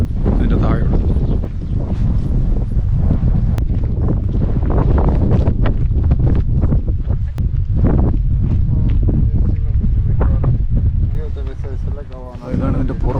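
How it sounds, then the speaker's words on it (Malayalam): Strong, cold wind near a gorge above the Kasakh River by Saghmosavank Monastery buffets the microphone in loud, continuous low roaring gusts, with a person talking over it. "നല്ല തണുത്ത കാറ്റാണ്"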